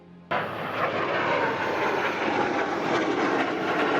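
A UAV drone flies over a city street in a Batman motion comic, heard as a sudden onset of loud, steady engine roar with a droning airborne rumble sustained for several seconds without speech.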